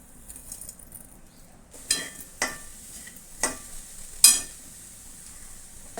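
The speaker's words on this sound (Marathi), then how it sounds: "साखर वितळेपर्यंत आपण छान मस्त परतून घेऊया" Grated coconut and sugar are stir-fried in a pan for coconut barfi, giving a quiet background with four or five distinct spatula scrapes spaced a second or so apart.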